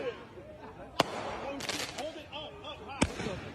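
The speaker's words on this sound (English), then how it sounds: "They're trying to light the mall on fire with fireworks." Fireworks set off at a mall during a riot give two sharp, loud bangs about two seconds apart over murmuring voices and crowd noise.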